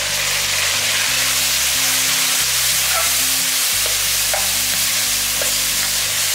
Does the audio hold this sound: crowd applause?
no